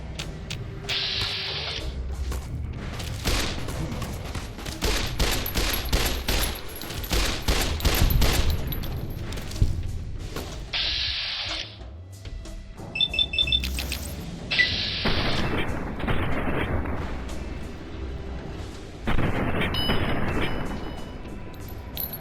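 Repeated loud bursts of gunfire in the video game Fallout: New Vegas, rapid volleys and single shots separated by short pauses across the stretch, with no speech.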